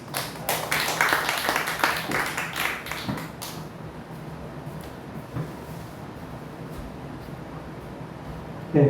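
An audience at a church lecture claps for a pastor, with a few seconds of close applause that fades into quiet room noise, then a faint tap at the end.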